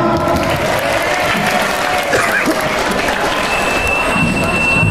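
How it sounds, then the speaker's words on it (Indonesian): An audience at a Ramadan welcoming gathering applauds in a loud, continuous burst of clapping with crowd noise throughout. "Tepuk tangan buat yang tidak paham."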